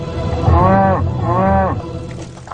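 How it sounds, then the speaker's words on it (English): Cattle mooing in two long, loud, drawn-out calls, close by, with a steady background hum and no talk over them. "Could these cattle be a target for terrorists?"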